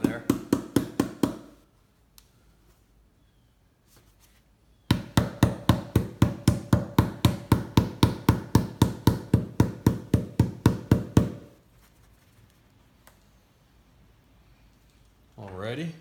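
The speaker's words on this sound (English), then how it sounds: "Just gonna give it a few whacks, shake it around a little bit, get that flocking, the excess flocking off of there." A flocked black duck decoy gets whacked in two bursts of rapid, steady knocks, a short one and then a long run of about twenty sharp hits, with quiet gaps and some handling noise between.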